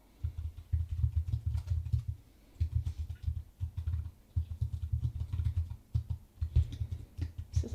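Steady bursts of fast typing on a computer keyboard, soft close-up clatter in runs separated by brief pauses, with no talking.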